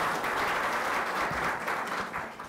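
A conference audience applauds to welcome a speaker, a steady wash of many hands clapping at moderate distance that tapers slightly at the end, with no voices over it.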